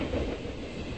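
Train interior while riding: a steady low rumble and rattle of wheels on rail, continuous and close, with no voices.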